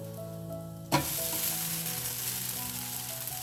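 Moong dal dosa made with peanuts roasts on a hot pan: a steady loud sizzle that jumps in with a sudden burst and then holds as a dense, even frying hiss, close by with no voices.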